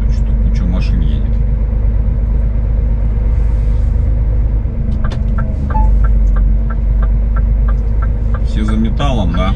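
Many trucks driving on a road, a continuous heavy engine rumble with rhythmic ticking clicks and a voice speaking over the traffic.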